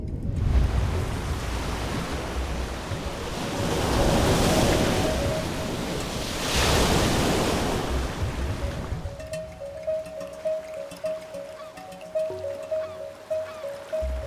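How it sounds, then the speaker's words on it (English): Red Sea waves surge and break in broad washes of surf, rising and falling in two big swells before settling into softer lapping, with a faint steady tone running underneath. "the Red Sea."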